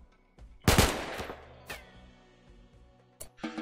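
Bursts of gunfire from the colony-sim game RimWorld: a sharp, loud volley of rapid shots near the start, followed by a few scattered single cracks and a final short burst, with no speech.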